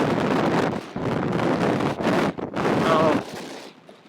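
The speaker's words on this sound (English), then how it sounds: "The wind is coming out of the south over here, so crazy." Strong southerly wind buffets the microphone with loud, continuous rumbling gusts that swell and dip briefly, recorded outdoors near a Can-Am Spyder three-wheel motorcycle.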